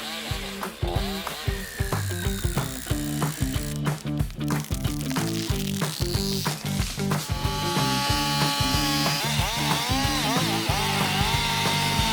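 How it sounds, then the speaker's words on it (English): Chainsaw engines roar and rev continuously nearby, the pitch rising and falling as they bite through wood. "the roar of chainsaws rang out, which meant felling the last trees"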